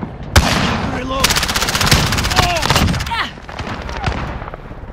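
Heavy automatic gunfire rattles in a Call of Duty: Modern Warfare match, with rapid bursts, a sharp single shot and dense overlapping fire throughout, while a voice calls out.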